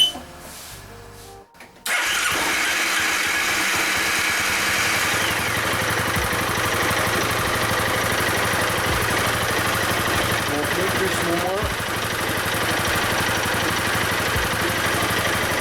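A Piaggio MP3 400/500 scooter, under test for a charging fault, starts after a short crank and settles into a steady, loud, close idle that runs on unbroken.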